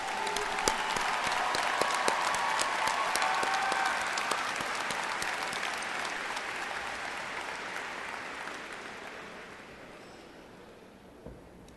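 Sustained applause fills a community college commencement hall in honour of military service members, a dense crowd clapping loudly and evenly before slowly tapering off.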